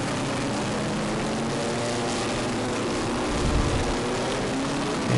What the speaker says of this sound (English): these guys are like a swarm of bees with their four-cylinder engines